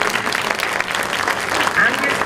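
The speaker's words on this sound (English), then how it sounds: "Could we just give them a round of applause?" An audience claps for middle school teachers at a poverty training session, a brisk and fairly loud burst of applause that runs without a break, with faint voices mixed in.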